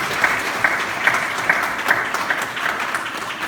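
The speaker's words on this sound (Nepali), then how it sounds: "आउनुहोस् हामी ताली बजाउनुहोस्।" Guests at a Christian wedding applaud the newly married couple just pronounced husband and wife, a steady, fairly loud crowd clapping with a slight pulsing rhythm lasting throughout.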